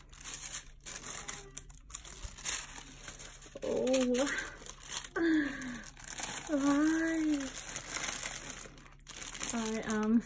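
Plastic bag crinkling while Gucci Ace snakeskin sneakers are unboxed, with rustles and crackles spread through the clip under a person's speech and brief exclamations.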